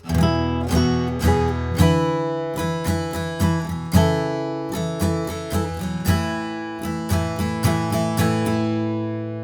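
An acoustic guitar plays the opening tab line of a song, strummed chords in a steady down-up rhythm with ringing sustain, close and clear with no talking.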